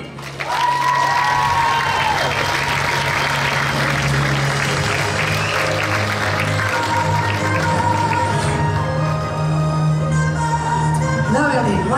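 Audience applause at a beauty pageant, sustained loud clapping from a crowd with some cheering, continuing over background music for the whole stretch.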